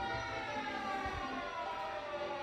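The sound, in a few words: sirens in the background after an earthquake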